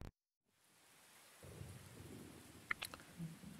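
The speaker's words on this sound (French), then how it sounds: "Il pleut." Steady rain falls with a low rolling rumble of thunder in an anime episode, starting after a moment of silence and continuing as a soft, even wash with a few faint brief accents.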